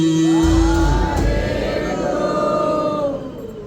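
A Sikh congregation at Gurdwara Shaheedganj Sahib, during the early-morning ardas, roars a jaikara together in answer to the call, a loud swelling crowd shout that rises, holds and fades over a few seconds.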